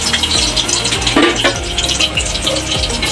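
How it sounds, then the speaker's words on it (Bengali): Garlic frying in oil in a wok while greens are being prepared for stir-frying, giving a steady close sizzle with a brief louder crackle midway and no talking. "ভাজি করার জন্য কড়াইতে তেল দিয়ে দিচ্ছি। তো এখন রসুন দিয়ে দিচ্ছি।"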